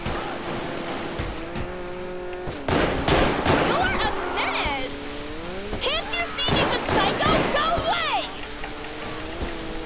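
Gunfire in the video game Grand Theft Auto V: a few sharp bursts of shots ring out over a loud running car engine, with someone talking throughout.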